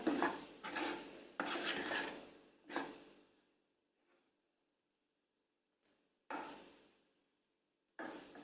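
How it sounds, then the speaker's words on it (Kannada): Metal lid clanks and scrapes onto a pan of spiced potato fry on a gas stove in a home kitchen, a few loud close knocks and rattles separated by quiet pauses. "ಸ್ವಲ್ಪ ಹೊತ್ತು ಹಾಗೆ ಇದ್ರನ್ನ ಈಗ ನಾನು ಮುಚ್ಚಿಡ್ತೇನೆ"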